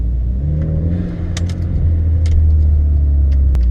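A BMW 428i's exhaust idles loudly with a deep, steady rumble that swells slightly, sprinkled with short crackling burbles and pops.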